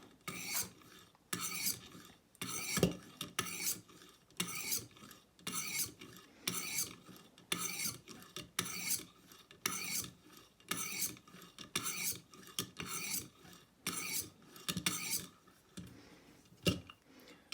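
A knife blade drawn across a Stonehocker Kodiak sharpener, giving steady repeated raspy strokes in an even rhythm, close and clear with no talking.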